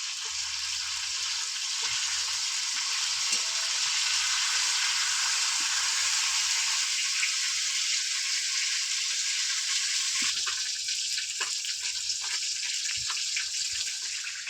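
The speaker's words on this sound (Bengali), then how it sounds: "পাঙাশ মাছের তো তেল ছিটকাচ্ছে, ওই জন্য কড়াটা একটু নিচে নামিয়ে মাছগুলো উল্টে দিচ্ছি।" Pieces of pangas fish frying in a mixed-oil pan, the oil sizzling and spitting loudly and continuously, with scattered pops, light clatters and a brief knock near the end.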